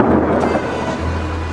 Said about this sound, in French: le bruit des armes automatiques et des explosions ne fait même plus sursauter les enfants